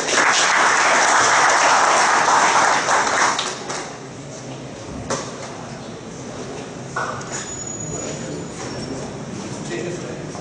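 An audience at a city council ceremony in Valparaíso de Goiás honouring military police officers breaks into loud, dense applause that fades after a few seconds, leaving quieter scattered taps and room noise.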